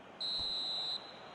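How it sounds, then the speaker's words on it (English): Referee's final whistle at a football match: a single long, piercing blast of nearly a second, loud and steady, rising above a low murmur of stadium crowd. "And there goes the final whistle."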